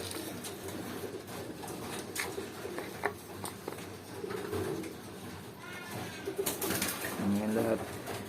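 Pigeons coo repeatedly in soft, rounded calls while being fed, with light patter and pecking close by and a person talking quietly alongside.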